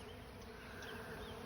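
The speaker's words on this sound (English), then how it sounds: "and the bees are gonna go somewhere." A dense, continuous buzz of many bees fills the air, steady and even, like a swarm hovering nearby.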